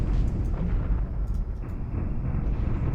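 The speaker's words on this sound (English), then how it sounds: "That's an explosion." A loud, sustained rumbling explosion from the real-time strategy game Homeworld 2, a dense low roar that fills the whole span with faint crackles on top and no voices.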